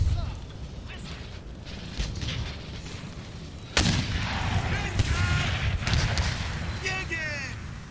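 Massed musket volleys and artillery booms from troops in the battle game Empire: Total War, a dense rumbling din with a sharp loud blast midway, under a voice talking.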